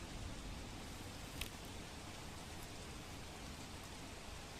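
Heavy nighttime downpour in Surat, Gujarat: a dense, continuous hiss of rain falling on surfaces, steady and enveloping, with one brief sharp tap partway through and no voices.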